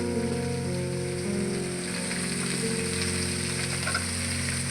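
A dense, even sizzle like light rain rises from onions sautéing in a pan, with faint stirring in the background. A low tonal hum runs underneath throughout, and no one speaks.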